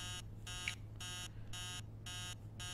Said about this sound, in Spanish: la alarma es un poco Toca pelotas básicamente